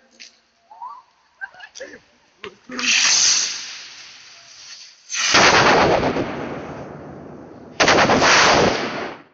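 Fireworks set off at a New Year's Eve party, starting with a few scattered pops and cracks, then long loud roaring, crackling barrages that rumble on for seconds at a time, close by.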